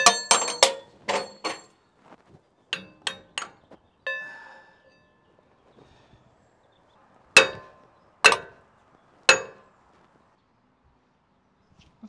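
Sharp metal-on-metal hammer blows strike a sprocket on a hydraulic chain-drive carnival ride wheel in a backyard workshop: a quick cluster of ringing hits, a pause with a brief bell-like ring, then three loud, evenly spaced strikes.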